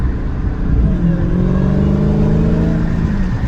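A 2022 Dodge Challenger Hellcat with its 6.2L supercharged engine accelerates with a loud, steady rumble and a rising whine, heard from inside the car.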